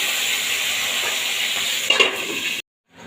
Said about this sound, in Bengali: মাছের মাথাগুলো দিয়ে এইভাবে আমি লাল লাল করে মাছটাকে ভেজে তুলে নেব